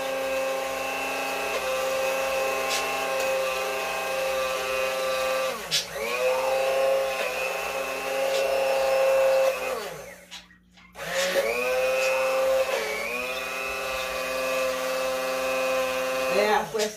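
A small blender whirs for butter in loud, steady bursts, stopping briefly before starting up again with its motor pitch rising, while a person talks in the background.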